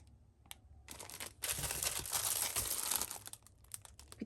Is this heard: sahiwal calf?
no